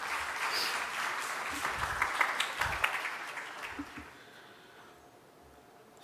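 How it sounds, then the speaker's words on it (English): An audience applauds at an awards event, moderately loud at first and with a few distinct claps, then thinning and fading to near quiet over the last two seconds. "So I think we should all give a big round of applause for them."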